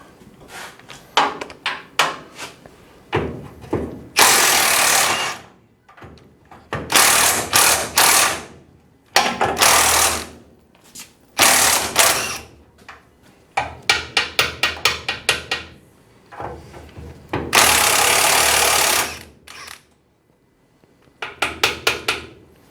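A ratchet turns a 3/4 inch (21 mm) deep-well socket in repeated bursts of rapid clicking, close and crisp, alternating with louder grinding spells and short silences, with no voices.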